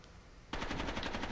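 Rapid automatic gunfire in the Rainbow Six Vegas 2 video game, a sudden sustained burst of evenly spaced shots that starts abruptly and keeps firing loudly to the end.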